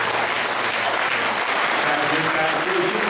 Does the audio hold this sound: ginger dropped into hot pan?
no